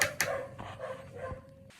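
A dog barks a few times, the first sharp bursts loudest and the later ones quieter and more muffled, heard fairly near with no speech.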